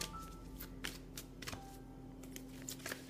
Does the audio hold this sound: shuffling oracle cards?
yes